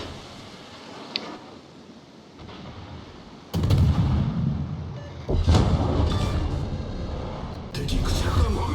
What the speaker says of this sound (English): just put as many shells on him as I can